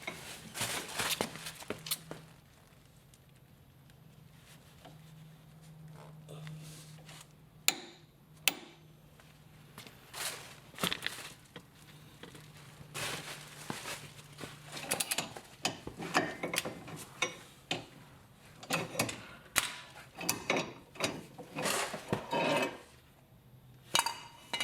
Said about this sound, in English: Install tool and torque to 65 foot-pounds.